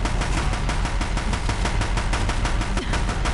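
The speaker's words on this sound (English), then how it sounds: "If the Deathbringers keep firing, this bridge will go." Deathbringer war machines in the Horizon Zero Dawn video game firing a relentless, rapid stream of heavy shots, a loud, steady machine-gun rattle beating evenly from start to finish with no break.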